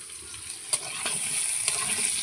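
Potatoes frying in a pan for a gourd curry give a steady bright sizzle with a few soft pops and stirring clicks, close up and continuous, with no speech.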